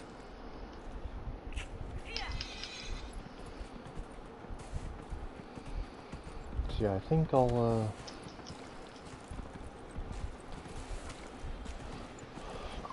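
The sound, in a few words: horse hooves clip-clop in Dragon Age Inquisition video game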